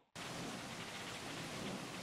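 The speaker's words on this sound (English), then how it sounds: "That's what I want right there, the heavy rain in the puddles." Heavy rain falling into puddles as a sound effect, a dense, steady hiss of drops that starts abruptly and stays loud and uniform, with no voices.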